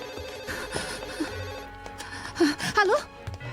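An old-style telephone bell rings indoors during a dramatic television scene, sounding in repeated bursts over a busy background of music and room noise, fairly loud and close.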